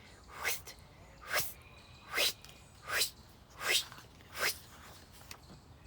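A voice makes six breathy hissing bursts at an even pace, imitating a rotating sprinkler spraying around and around.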